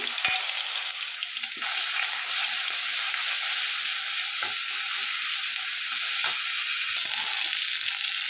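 Black cumin, garlic paste and ginger paste fry in oil with a steady, close, bright sizzling hiss that runs throughout, punctuated by a few soft spoon scrapes and taps.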